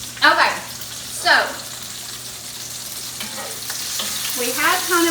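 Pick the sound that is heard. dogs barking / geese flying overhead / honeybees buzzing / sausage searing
sausage searing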